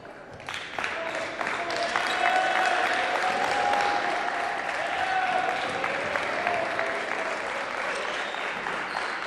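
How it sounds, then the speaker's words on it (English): Basketball fans cheer and applaud in a high school gym during a boys' game between St Thomas Aquinas and St James Academy, a loud, steady crowd roar lasting throughout. "Thunder fans cheering on the ball movement and the clock running"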